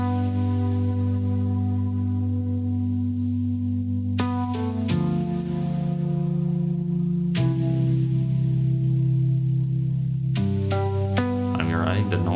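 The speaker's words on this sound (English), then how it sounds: "it's some sort of synth, but it sounds like a real piano." An Omnisphere synth preset that closely resembles a real piano plays sustained low chords, with a few struck note changes ringing out over a steady hum.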